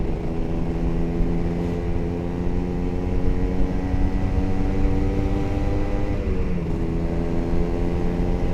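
Kawasaki Ninja two-stroke motorcycle on its standard exhaust, a steady, smooth engine drone with layered harmonics running continuously, shifting slightly in pitch near the end.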